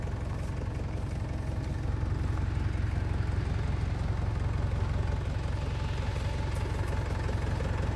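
A Cobey dump bed is raised, with a steady low engine or hydraulic pump drone running close and even for several seconds and no talk.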